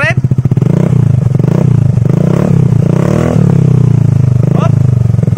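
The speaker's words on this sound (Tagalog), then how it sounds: "So pakinggan natin yung sound check nito kung gaano kaganda." Close, loud revs from a Suzuki Burgman scooter with a stainless full-system aftermarket muffler: the deep exhaust throbs, swells through a couple of throttle blips and falls back to a rumbling idle.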